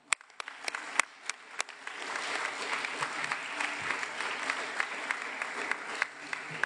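Audience applause at a national school award ceremony in Rome, starting with a few scattered claps and swelling into steady, moderately loud clapping from a seated crowd.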